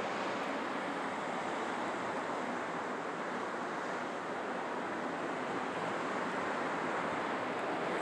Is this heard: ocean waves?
yes